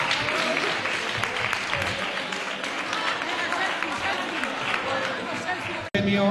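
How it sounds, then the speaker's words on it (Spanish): Applause for a school team, the Instituto Valle del Jerte de Plasencia, at a geology olympiad awards ceremony, a continuous roomful of clapping mixed with crowd murmur, steady and fairly loud before a sudden cut near the end. "Pues un aplauso para el Instituto Valle del Ejerte de Plasencia"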